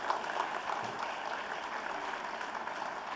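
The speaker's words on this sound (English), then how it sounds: "Let's give a big round of applause to our parents." Applause from a convocation audience honoring graduates' parents, a steady, diffuse clapping wash filling the hall at moderate distance throughout, with no voices over it.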